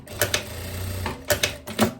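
Sewing machine running a straight stitch across viscose dress ruffles in short bursts, a couple of quick rattling runs separated by pauses, close and moderately loud with no talk.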